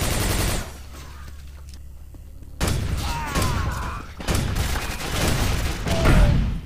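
Grenade blast and rapid gunfire during a Quake 4 firefight, with loud bursts of automatic weapons, a quieter lull with a low hum, then dense firing and explosions returning close and loud.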